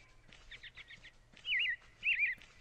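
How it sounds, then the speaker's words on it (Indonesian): Clear, bright bird chirps and warbling trills from a kids' 3D doll dress-up video game repeat in short bursts over a soft steady background, fairly loud and close. "banyak suara burung"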